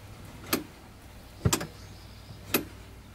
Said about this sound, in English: we also hear the click that disengages the handbrake